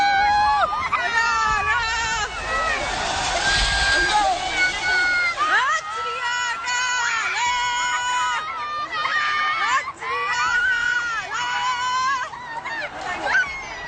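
A large crowd of Holi rioters, some carrying swords, surges onto a road in Nanded during lockdown; many overlapping voices shout and yell loudly and continuously up close, a dense, unbroken roar of agitated cries with no single voice standing out.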